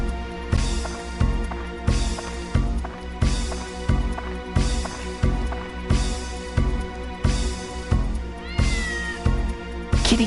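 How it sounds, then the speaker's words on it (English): A cat meows repeatedly in the video game Dark Cloud, a regular rhythm of about eight loud meows over looping game music. "Kitty cat."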